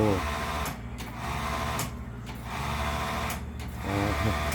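A sewing machine runs steadily, stitching a long seam in one continuous mechanical whir with a fast needle rhythm, close by, while a voice talks over it.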